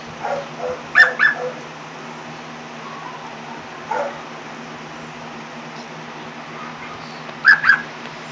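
An African Grey parrot imitates a small yippy dog's bark, giving short paired yips near 1 and 7.5 seconds with a fainter one between, loud and close over a quiet indoor background.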